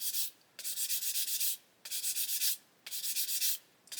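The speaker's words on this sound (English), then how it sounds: "you can see when I sand it, you can see that it's not flat at all" Close, steady sanding of a plastic part from a 1/72 Airfix Lancaster B.III Dambuster kit, in three long rasping passes separated by brief pauses, with no talking.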